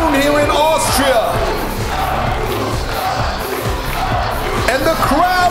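Loud, dense roar of a wrestling arena crowd cheering and yelling as the masked Austrian winter demon Krampus enters, sustained throughout with whoops and shouts swelling near the end.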